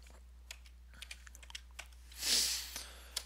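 Soft computer keyboard keystrokes are tapped one by one to enter an authentication code, close and quiet, with a brief breathy rustle near the end.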